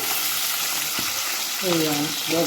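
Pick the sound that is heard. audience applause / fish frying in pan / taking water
fish frying in pan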